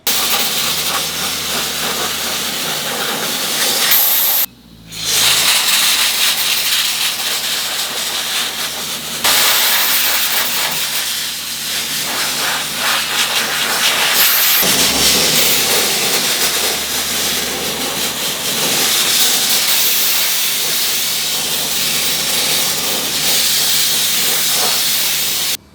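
Sandblasting the aluminum trailing arms from a 1969 Porsche 911: a loud, continuous hiss of the abrasive blast running almost steadily, broken by a few short pauses, with no talk.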